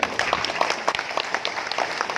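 Audience applause at an evening thanksgiving gathering in Bengkulu, Indonesia: a dense, steady patter of many hands clapping at close range for about two seconds, fairly even in loudness throughout.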